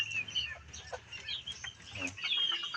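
A hen clucks close by after laying her eggs, her first laying, in short irregular bursts of squawks and clucks that rise and fall with brief pauses.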